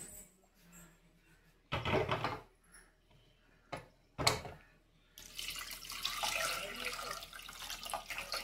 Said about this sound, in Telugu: నీళ్ళు అయితే వేసుకుందామండి